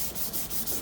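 Brief rhythmic rubbing of 400-grit sandpaper against a hard plastic headlight housing, a few close scratchy back-and-forth strokes.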